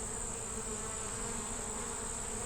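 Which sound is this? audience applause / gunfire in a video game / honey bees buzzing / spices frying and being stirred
honey bees buzzing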